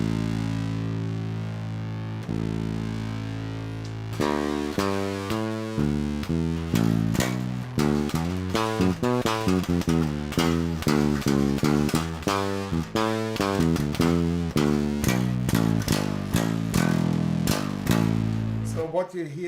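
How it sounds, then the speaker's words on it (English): An electric guitar runs through a Rabbit Hole FX fuzz pedal set to its top end, first a sustained chord, then a series of plucked notes and chords with sharp attacks and decays, loud and alone. "so in this case we just have the top end of the fuzz, and now we bring in some of the guitar"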